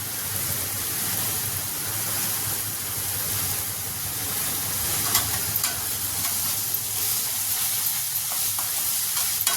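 Green chili masala frying in a pan for a prawn curry, a steady close sizzle and hiss with a low stove hum beneath and occasional light scrapes of stirring.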